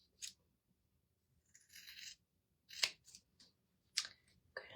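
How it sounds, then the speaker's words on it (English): Scissors snip through excess fabric beside a stitch line while sewing a bowl cozy, a few quiet separate cuts with pauses between them at close range. "I'm going to take my scissors and I'm going to, see where I'm cutting?"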